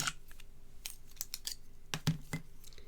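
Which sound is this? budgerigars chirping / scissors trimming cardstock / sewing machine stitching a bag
scissors trimming cardstock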